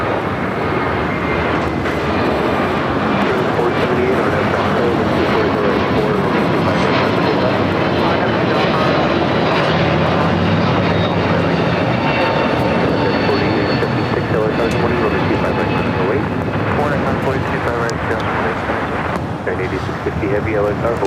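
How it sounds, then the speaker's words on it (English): A JetBlue Airbus A321neo takes off at LAX, a loud, steady broadband engine roar that holds throughout, with a faint voice partly beneath it. "It's that A321neo with JetBlue now taking off."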